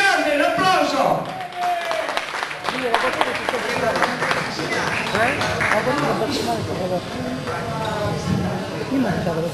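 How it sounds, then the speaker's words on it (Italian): Crowd at a Sicilian tambourine (tamburello) gathering breaks into loud, continuous applause mixed with lively chatter and voices throughout. "un applauso!"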